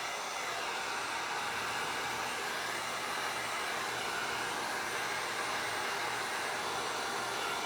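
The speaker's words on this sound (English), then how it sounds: "And then we're going to come back in with the heat gun." Heat gun blowing hot air over an Iflex wood embellishment on furniture, a steady, loud whooshing roar that holds unbroken throughout with no voices.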